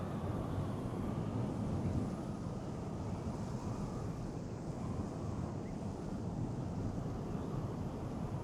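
Wind blows steadily outdoors, a continuous low rushing roar buffeting the microphone with no breaks or voices.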